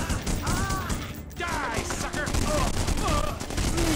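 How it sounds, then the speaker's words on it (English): Dense gunfire from The Punisher video game, rapid overlapping shots and bursts crackling through the whole stretch alongside game music and voiced game dialogue. "Where's this shot coming from?"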